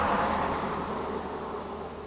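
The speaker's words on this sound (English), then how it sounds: "we've added a few ambient sound effects to the music. Cars zooming past," Steady wash of traffic noise as cars zoom past on a distant highway, a broad continuous roar layered into music, moderately loud and unbroken throughout with no distinct individual pass-bys.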